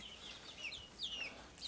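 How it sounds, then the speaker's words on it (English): Young chickens cluck and chirp softly in a brooder pen shared with baby quail, several short, high calls scattered irregularly over a quiet background. "These chickens are getting big."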